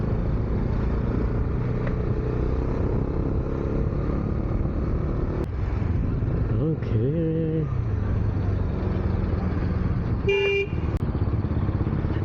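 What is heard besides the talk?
Bajaj Dominar 400 motorcycle exhaust with dB killer removed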